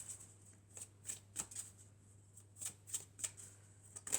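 Elf oracle cards are shuffled in a quick series of soft, papery riffles and slaps. The close, crisp bursts come in an uneven rhythm over a faint low hum, with no talking.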